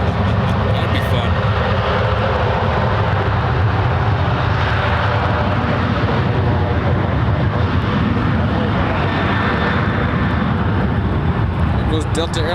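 A 20-year-old Delta Boeing 737-800 takes off from San Francisco International Airport with a loud, steady jet engine roar that lasts the whole time, while radio chatter or speech continues underneath.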